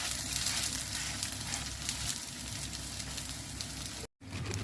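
Beef burger patties frying in a little oil over low heat give a steady, soft sizzle and crackle that runs continuously, interrupted only by a brief cut near the end.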